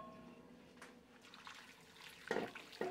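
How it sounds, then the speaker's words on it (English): Water being poured into a crockpot over beef for a curry, a faint trickle and splash that swells into a couple of brief louder pours near the end. "And then we're going to add our water."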